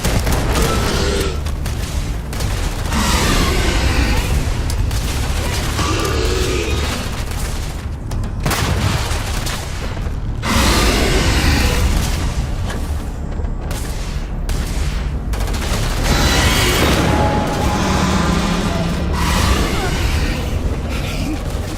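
Repeated booms and bursts of gunfire from grenade explosions and weapons in the video game Starfield, loud and continuous, with a voice talking over the combat.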